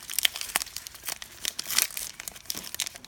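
Foil wrapper on a 2017 Donruss Optic Football trading card pack being ripped open, a steady run of close, bright crinkling and tearing bursts with no talk.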